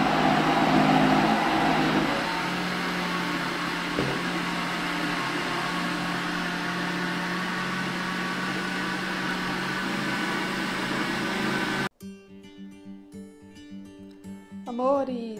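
A blender pulses cornmeal cake batter in short bursts, a steady whirring motor hum close up that cuts off sharply near the end, after which a voice and light background music take over.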